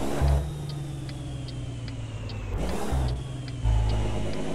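Truck engine in American Truck Simulator with a Kriechbaum sound pack, droning steadily and surging in revs twice with gear-change dips, over-revving slightly between shifts; no talk.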